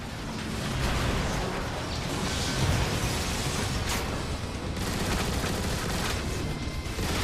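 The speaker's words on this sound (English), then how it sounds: "Blast the bridge support." Continuous gunfire and blasts fill the battle as the bridge support is shot at in the video game War for Cybertron, a dense, loud barrage of fusillade and bursts with no pause.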